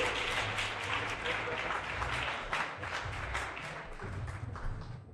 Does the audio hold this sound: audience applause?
yes